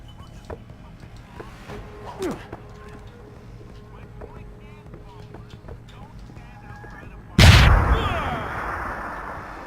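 Gunfire in the video game Deus Ex: Human Revolution: a quiet stretch with a small sharp crack early on, then one loud, sudden shot near the end that rings out and decays slowly.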